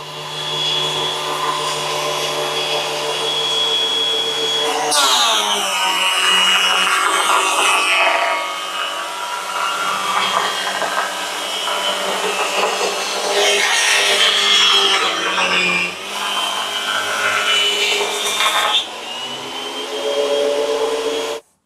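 A loud, continuous machine whine of a 12-inch JEMAR thickness planer with a carbide spiral cutterhead cutting wood, the pitch dropping and swelling as boards feed through, running for a long stretch.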